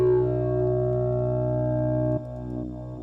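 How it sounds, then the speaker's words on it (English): A droning, buzzing electronic tone with rich overtones, sustained and then shifting timbre, a synthesized didgeridoo from an Ocean Swift Synthesis Didgeridreamer. "And here you go to the more traditional sort of didgeridoo sounds."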